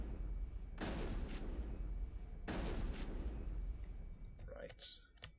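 Gunfire from the video game Mass Effect, two sustained bursts of loud, dense shooting with a few sharper shots trailing off at the end, over a steady low background.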